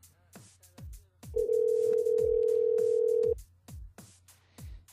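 During a live radio show call, a single long telephone ringing tone sounds for about two seconds over steady background music with a thumping beat.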